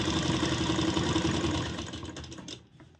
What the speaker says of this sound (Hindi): इस तरह से खींचेंगे और खींचते हुए ही हम इस पर सिलाई शुरू कर देंगे